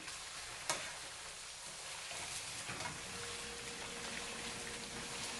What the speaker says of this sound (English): It's kind of frying up a bit.